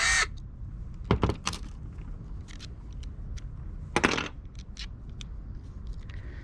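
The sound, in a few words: screws being removed from car body kit pieces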